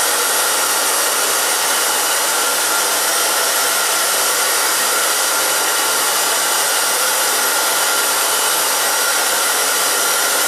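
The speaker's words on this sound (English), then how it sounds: "So I'm just going to blow dry it straight down." A hair dryer blows steadily and loudly while drying bangs straight down, a continuous airy roar that holds without pause for the whole stretch, no voices over it.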